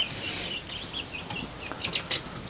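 A backyard flock of chickens with young chicks outdoors gives off soft, scattered clucks and high peeping chirps, with a few faint wing flutters, all fairly quiet and close by.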